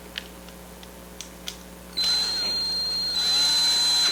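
A few faint taps come first, then a power tool whirs loudly and steadily, tightening an electrical ground connection on a stage stringer being assembled.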